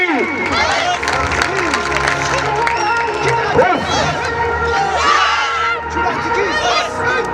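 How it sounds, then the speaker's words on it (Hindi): A lively outdoor crowd at a university sports gala claps and cheers for a children's karate demonstration, with shouting, excited children's voices and talk mixed into the dense, loud, continuous din. "बच्चों के लिए भी तालियां हो जाए आपकी।"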